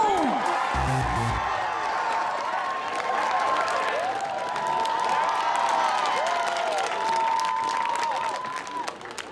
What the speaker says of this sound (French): T'as entendu comment ils t'ont applaudi?